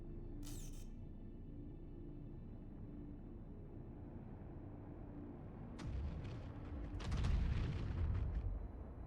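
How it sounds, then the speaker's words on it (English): Missile and torpedo barrage firing in the Star Citizen video game: a low rumbling boom swells after a few seconds, with a heavier blast rolling in near the end over a steady background hum. "Yeah, go ahead and fire your arrestor 3s. Just do a full barrage of 4."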